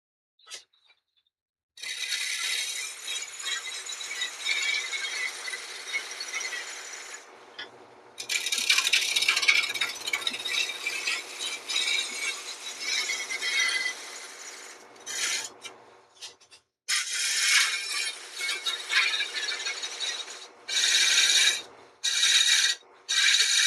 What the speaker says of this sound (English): I'm gonna use a chisel.